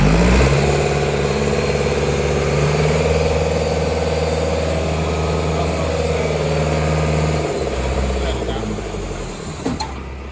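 A 26,000-pound Clark C500 loader's diesel engine idles with a loud, steady low drone close by, holding even before it tails off near the end.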